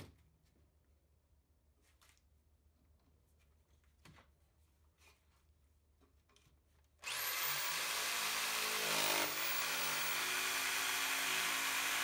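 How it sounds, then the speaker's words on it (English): After several seconds of quiet with faint tapping, a loud power drill suddenly starts up and whirs continuously, close by, boring a starter hole in wood. "I'm drilling a starter hole so I can get my jigsaw blade in there"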